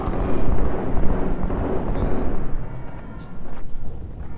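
A grenade blast in Halo 2, with a loud rumbling burst followed by a decaying roar and scattered crackles over several seconds.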